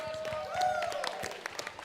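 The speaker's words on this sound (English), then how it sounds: "round of applause for Nightfire for winning a free T-shirt" A convention crowd at a VR esports grand final claps briefly, a light patter of applause with scattered louder claps under a tonal background, over in under two seconds.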